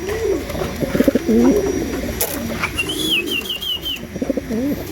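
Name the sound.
racing pigeons cooing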